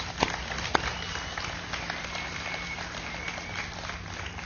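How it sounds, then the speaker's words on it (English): A large crowd applauding at a State of the Nation address, a dense, steady wash of clapping heard from a distance for several seconds, with a couple of sharper claps near the start. "Let's give them a round of applause."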